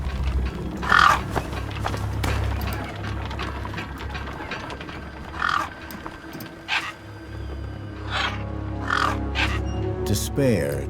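Scavenger gang birds caw in a wasteland in the video game Beyond a Steel Sky, several harsh calls spaced across the scene over a steady low hum, with speech running underneath.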